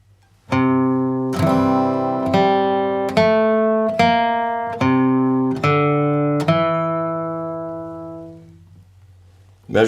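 Acoustic guitar playing measures 4 and 5 of a song, clear plucked notes and strums ringing out in a slow steady rhythm, close and alone, fading into sustain at the end.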